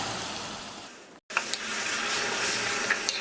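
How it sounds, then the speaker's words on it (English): Tomato puree made from two blended tomatoes sauteing in a pan, a steady soft sizzle with a brief break midway and a few light clicks, no talk. "Saute it until the raw smell of tomato puree goes off."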